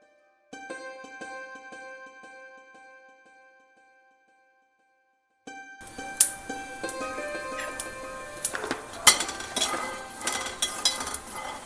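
Peanuts roasting in a pan are stirred after a quiet pause, giving scattered scraping and sharp metallic clinks of the spoon against the pan that grow busier toward the end.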